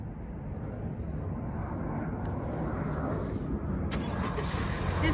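A 2018 Honda Civic EX turbo starts by remote start, its engine settling into a steady low idle hum that builds slightly and holds, heard from nearby outdoors, with a faint click partway through.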